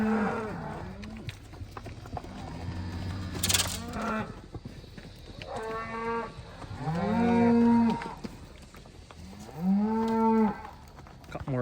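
Cattle moo repeatedly while being herded, several loud drawn-out calls from different animals spaced across the stretch, with shuffling hooves and farm background noise between them.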